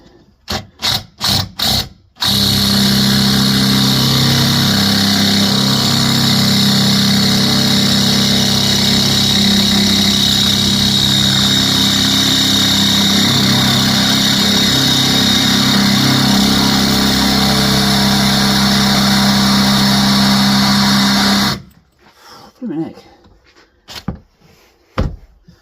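Power drill boring into a Range Rover L322, a loud sustained motor whine holding for about twenty seconds between a few short knocks at the start and scattered clatter after it stops.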